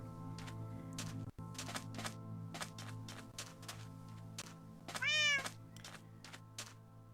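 A cat in the blocky survival game Minecraft meows once, loud and close, over a steady low ambient drone, with soft repeated tapping and clicking sounds around it.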